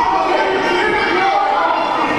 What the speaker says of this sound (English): The crowd here at the Battle Zone in full effect for Tornado Jones.